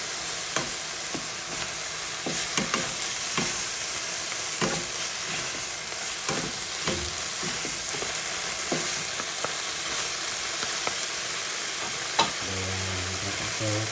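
Shrimp and radish (labanos) stirred with oyster sauce in a hot pan, a steady close sizzle and fry with scattered scraping stirs of a utensil against the pan throughout, no voices.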